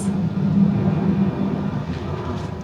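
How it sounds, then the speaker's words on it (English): An airplane flies overhead above a woodland near a car park in Lanzarote, a steady low droning rumble heard from a distance, fairly constant throughout with no talking. "Don't know if you can hear the plane."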